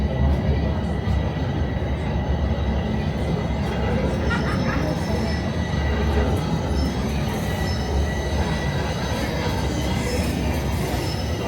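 A Toronto subway train rumbles loudly and continuously at a station on the southbound line toward Bloor, Yonge and Union, with wheel squeal and rail noise under public address announcements.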